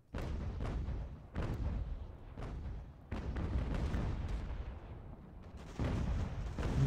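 Artillery and musket fire in the video game Ultimate General: American Revolution, repeated booming cannon blasts and rolling volleys at irregular intervals, loud and low with lingering rumble.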